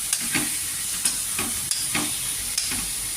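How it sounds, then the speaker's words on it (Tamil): A spoon stirring onion and tomato as they sauté in a hot pan, with a steady sizzle broken by four or five scraping strokes at a regular pace, close and without speech. "இப்போ இதையும் போட்டு கொஞ்சம் நல்லா கிளருவோம் ஒரு அஞ்சு நிமிஷம் நல்லா அது மசியணும் தக்காளி அது வரல வதக்குவோம்"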